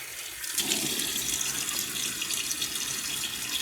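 Running water pours from a tap into a sink as someone wets their face before a shave, a steady close hiss with splashing.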